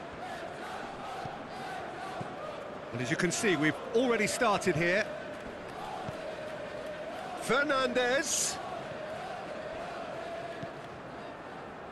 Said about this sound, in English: the matchday noise at this place is truly special